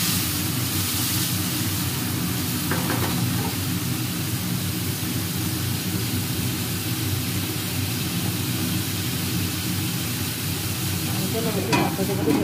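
Potatoes frying in a little oil in a wok while being stirred, a steady loud sizzle with scraping stir strokes throughout, no voices.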